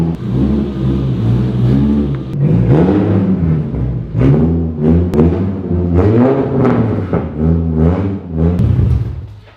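Straight-piped Nissan 350Z exhaust, loud and close, revved in a string of repeated throttle blips, each rising and falling with short gaps between bursts.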